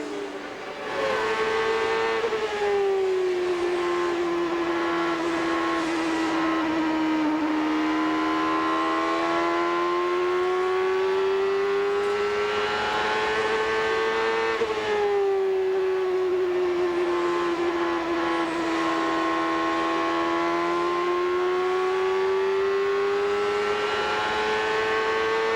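CART Indy-style race cars at the 1996 Milwaukee Mile oval scream past in a loud, continuous engine drone whose pitch rises and falls as the cars work the throttle through the corners, with no voices.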